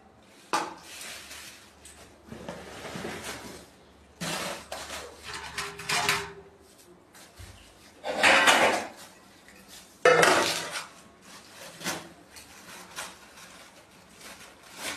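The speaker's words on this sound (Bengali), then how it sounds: "এটা নিশ্চয়ই কই মাছ আছে, লাফালাফি করছে।" Live koi fish flap and jump at a market, making irregular bursts of wet slapping and rattling thrashes separated by quieter pauses, close by and with no voices.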